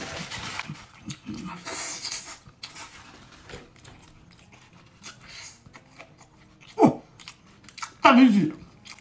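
Someone chews fried skewers bought from a street food shop in Northeast China, with close, moist munching and crunchy bites under faint chatter and rustling, getting louder near the end.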